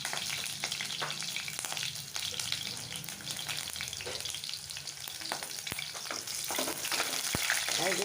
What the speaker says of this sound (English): Okay, so now the oil is hot and we'll drop this in. Okay, so as the shallots are frying now,